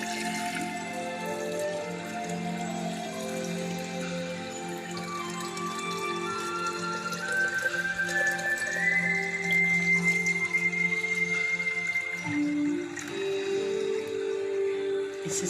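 Water pours steadily into a container to fill a detox drink, the tone rising as the vessel fills, close and clear, ending with a short splash.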